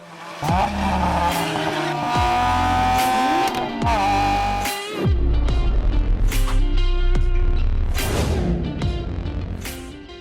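A Stage 2+ tuned G20 BMW M340i accelerates hard up the Genting road in Malaysia, its engine revving loudly through rising pitches, cut by sharp gear changes and crackling bursts, close and dominant throughout.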